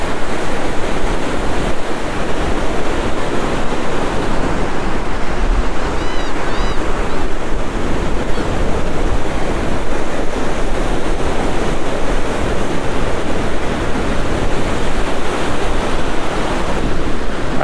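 Steady ocean surf rolls and breaks continuously on a beach near a jetty, a dense, unbroken wash of water noise with wind buffeting the microphone, loud and close with no voices.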